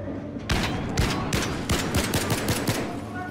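Submachine gun fire from the video game Battlefield 3 comes as a sequence of sharp, loud bursts and single cracks in an uneven rhythm, close and dominant, with no talk over them.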